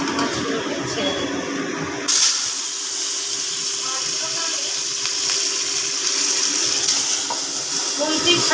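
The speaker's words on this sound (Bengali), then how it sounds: "মাছ ভাজার জন্য তেলটা যথেষ্ট পরিমাণে গরম হয়ে গেছে। এবার আমি মাছগুলোকে ছেড়ে দেব।" Fish slipped into well-heated cooking oil in a home kitchen: a quiet start gives way to a sudden loud, hissing sizzle that holds steady and close for several seconds.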